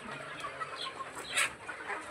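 Chickens on a poultry farm clucking softly, a few faint, scattered calls over low background noise, with no talk.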